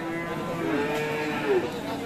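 A Sahiwal cow and her bull calf at a cattle market moo, with one long low call followed by a shorter one, close by amid background chatter.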